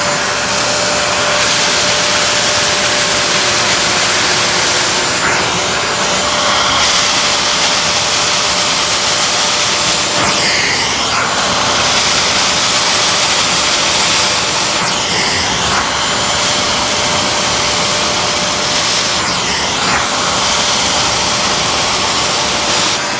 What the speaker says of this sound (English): I went over some of the other areas again to suction up any remaining or extra or excess moisture